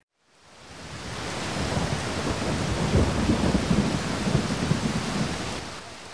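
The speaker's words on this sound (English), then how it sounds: "It's rainy, and I'm happy." Steady heavy rain with a deep rolling thunderclap in a thunderstorm. It swells in after a moment of silence and stays loud and close throughout.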